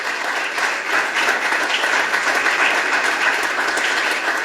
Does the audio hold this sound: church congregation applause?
yes